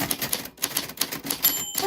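Keys clack steadily on a typewriter in a quiet indoor ASMR setting, quick close-up strikes in an uneven rhythm with two brief pauses and a small bell-like ping near the end.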